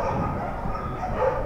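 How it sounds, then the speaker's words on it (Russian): Dogs and puppies at a stray-animal shelter, heard as a loud, dense clamor of overlapping barks and yips that continues without pause. "Громкий и такой пронзительный лай слышен за пределами участка по отлову и содержанию безнадзорных животных."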